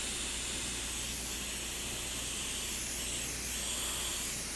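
A squirt bottle spraying liquid onto a patina paint finish, giving a steady, continuous airy hiss that lasts throughout, fairly quiet and close with no talking.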